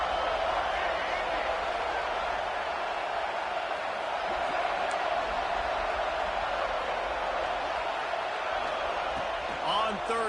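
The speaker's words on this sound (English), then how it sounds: "this crowd really affecting the football game" A steady roar from the home crowd fills a college football stadium at an FSU versus FLA game, loud and unbroken throughout, with a faint whistle-like tone near the end.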